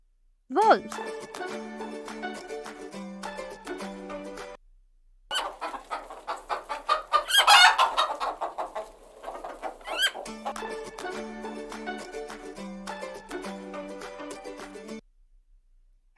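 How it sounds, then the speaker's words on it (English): A hen or chicken clucks in a quick, uneven run of loud, close calls, standing apart from background music. "hen or chicken"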